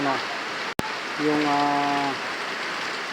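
Heavy afternoon rain pours as a steady broadband hiss throughout, with someone talking over it and a brief dropout partway through.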